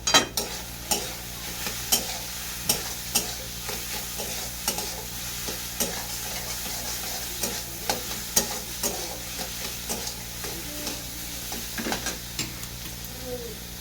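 Cauliflower and garlic fry in a pan under steady sizzling, while a spatula scrapes and stirs in rhythmic, close strokes about once a second throughout.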